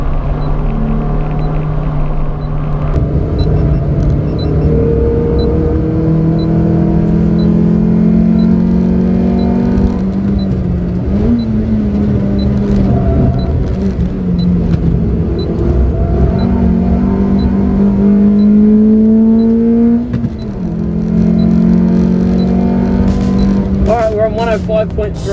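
A car lapping Wodonga Circuit on a track day, its engine droning loud and steady from inside the cabin with rising and falling pitch through gear changes, continuous for the whole stretch.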